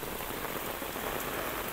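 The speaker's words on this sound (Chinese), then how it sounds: "哇！ 依家非常之大雨啦" Heavy rain pours on a hillside trail near a reservoir in Hong Kong, a dense, steady, loud hiss of drops with no talking.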